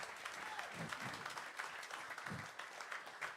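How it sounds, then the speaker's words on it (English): A live concert audience at Campus JAX applauds a big band, a steady wash of clapping from a large crowd, moderately distant and sustained throughout. "Keep the applause coming."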